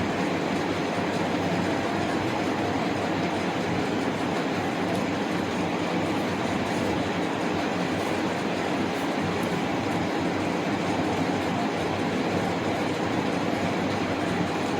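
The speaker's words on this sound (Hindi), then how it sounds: "यहाँ वाहन चलते हैं, कभी कभी इतनी आवाज़ हो जाती है कि सुन नहीं पाते हम लोग" Continuous loud rumble of passing vehicles on a nearby road, a dense steady roar with a rattling, clattering quality that never lets up, no voices over it.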